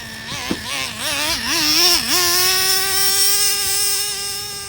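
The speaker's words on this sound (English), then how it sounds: "Nitro just sounds awesome." Nitro engine of a Traxxas Revo 3.3 RC truck running close by, blipping and wavering in pitch at first, then settling into a steady high, buzzing idle with strong harmonics, no talk.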